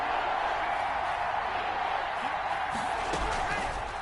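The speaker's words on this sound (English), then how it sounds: "the crowd getting into it as we come up on a big 3rd down" Simulated stadium crowd in a football video game, a dense, steady roar of cheering fans that builds toward a big third down, mixed under a commentator's voice.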